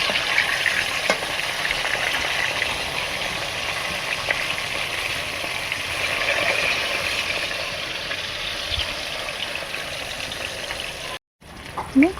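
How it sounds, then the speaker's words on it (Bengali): Pieces of tuna fish frying in hot oil, a steady close sizzle running continuously with faint clinks, briefly cutting out near the end. "দেখুন মাছগুলো লাল লাল করে ভাজা হয়ে গেছে"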